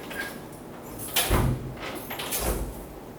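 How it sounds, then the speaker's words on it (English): An old door opens or closes with two low thuds and some creaky scraping, fairly close, heard against quiet room noise. "that's an old door."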